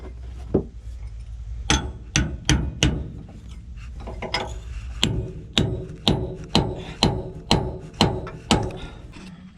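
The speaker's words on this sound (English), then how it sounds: "I did that with the peener" A peening hammer pounds rusted, corroded metal in sharp, ringing blows, first a quick cluster of four strikes, then a steady run of about nine evenly spaced hits, close and loud over a low background rumble.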